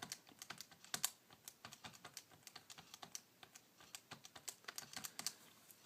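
Quiet, rapid tapping as values are keyed into a calculator, with uneven bursts of light clicks running continuously and no voices.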